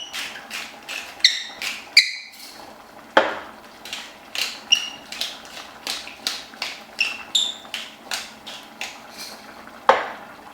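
A spoon scrapes and clinks steadily around a pan of white sauce for lasagne, made with milk, in a fast, even rhythm of short, close metallic strokes with occasional louder knocks.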